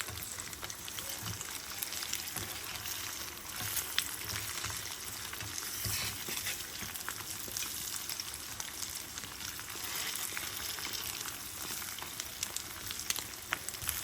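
An egg sizzles in a hot pan, with a continuous crackling fry holding steady throughout, moderately quiet and close, with no voices.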